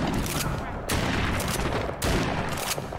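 Gunshots in The Walking Dead Saints and Sinners VR, loud rapid volleys of gunfire in close bursts with brief pauses between them, dominating the scene.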